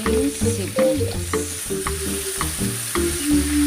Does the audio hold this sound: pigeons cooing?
no